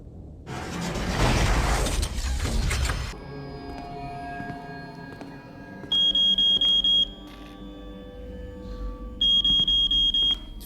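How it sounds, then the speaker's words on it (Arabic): A phone rings in a horror video game as two bursts of shrill electronic trilling. It starts after a loud rushing noise and is heard over a low hum with faint beeps in between. "في تليفون بيرن."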